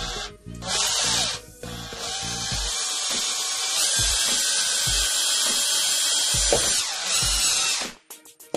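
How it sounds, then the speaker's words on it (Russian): A cordless screwdriver fitted with a flexible shaft extension drives a press-washer screw, a loud close whirring drone that starts, stops briefly, then runs steadily for several seconds before cutting off. "Попробуем пресс-шайбу закрутить."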